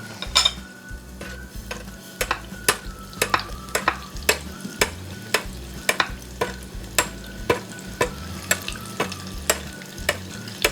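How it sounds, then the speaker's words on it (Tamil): Fried ice cream dropped into hot oil, sizzling steadily up close, with a regular run of sharp metallic clicks from a utensil stirring in the pan throughout. "இப்போ நல்லா எண்ணெய் ஹீட் ஆகிடுச்சு. ஸோ நான் இப்போ போட்ட கொஞ்ச நேரத்தில் எடுத்துடுறேன்."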